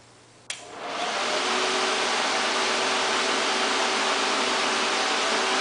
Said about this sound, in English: test the fans to make sure they work.